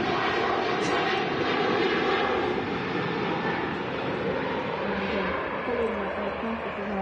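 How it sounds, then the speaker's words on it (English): An airliner takes off at Manchester Airport with a continuous, broad jet engine roar. It holds steady and loud throughout at a moderate distance, under faint background chatter. "There you go, off to Italy."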